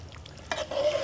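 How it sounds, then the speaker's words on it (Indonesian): Dabu-dabu chili relish is stirred and fried in a pan over low heat. A soft scrape of stirring comes first, then a steady sizzle of frying builds up close by. "Kita terus menggoreng dabu-dabunya, ricanya ya teman-teman."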